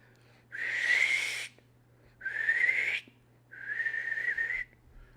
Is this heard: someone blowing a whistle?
yes